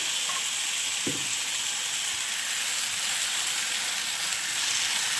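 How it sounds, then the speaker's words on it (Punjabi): Mustard greens sizzle steadily in a hot tomato and onion tempering, giving a continuous close frying hiss with one brief soft knock partway through and no voices. "ਹੁਣ ਆਪਾਂ ਇਹਦੇ ਵਿੱਚ ਸਾਗ ਐਡ ਕਰ ਦਾਂਗੇ"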